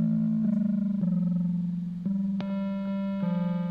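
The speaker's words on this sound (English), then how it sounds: "this over here is going to be turning us from sine wave" A Kinotone Sparks pedal in synth engine mode plays a clean sine wave tone, a held, pure pitch that steps between a few notes with soft attacks, up close and without any talk.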